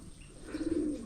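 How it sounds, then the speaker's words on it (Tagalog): A pigeon gives a single soft, low coo lasting under a second, close by and fairly quiet against light background noise. "Ayan, so andun po yung ating kalapati."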